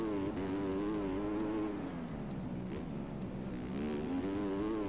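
A 450 dirt bike engine in the motocross video game MX Bikes drones steadily with wavering revs, shifting pitch up and down as the rider keeps the throttle on, close and continuous.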